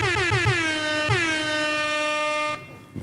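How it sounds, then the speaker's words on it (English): A loud air horn blasts twice in quick succession, then holds one long sustained blare before cutting off abruptly. "how about some air horns?"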